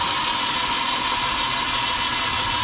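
Steady mechanical whirr of a Kia car engine cranking over during a compression test, continuous and close, with no talk.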